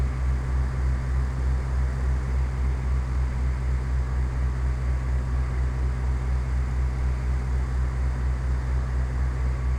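A light airplane landing in Microsoft Flight Simulator X, engine at idle: a steady, droning low engine hum with constant airflow noise, unbroken and even throughout, with no voices.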